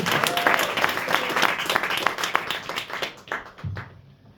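A crowd applauds at a stand-up comedy gig in the King Charles Inn pub in Poole. The clapping is loud and close, with dense, rapid hand claps that thin out and fade to quiet within a few seconds.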